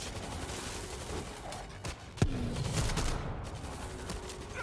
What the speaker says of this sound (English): Auto turret online.